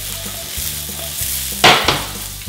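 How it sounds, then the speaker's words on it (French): Sweet potatoes sauté in a pan, a steady near sizzle over a low hum, with two sharp bursts of louder crackling as they are stirred or tossed. "Et on passe à la poêle. On va faire revenir un peu."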